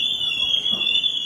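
A car alarm sounds on a ferry's vehicle deck as a steady, high, piercing tone that holds without a break throughout, loud and alone with no talking.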